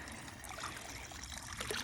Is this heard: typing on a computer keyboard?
no